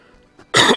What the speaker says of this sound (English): Just deafen everyone with my coughs, why don't I?